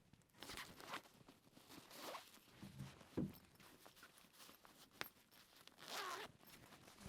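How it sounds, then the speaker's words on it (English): A privacy compartment zipper on an Amazon Basics 21-inch carry-on bag is drawn in several short, quiet zips with brief pauses between them, up close and with no talk. "I'll put in this first privacy zipper."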